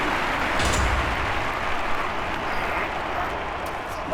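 A stadium crowd at the London 2012 Olympic athletics applauds a throw, a broad, steady wash of clapping and cheering heard from a distance without a clear break.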